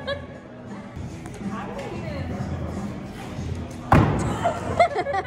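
A hatchet thrown at a wooden target lands with one sharp, loud thud near the end, amid indoor chatter and voices from a group of friends.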